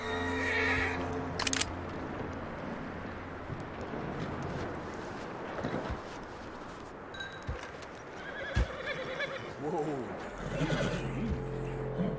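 A horse in the Western video game Red Dead Redemption 2 gives a couple of sharp whinnies and snorts among hoof clops and rustling, with a voice talking over parts of it.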